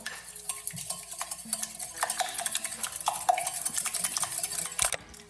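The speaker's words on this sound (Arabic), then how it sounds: "صافي غادي نخلط هادشي كله" Ingredients for an old-style stale bread recipe being mixed together in a bowl, a busy, continuous run of scraping and clattering spoon strokes against the dish, close and fairly loud, stopping near the end.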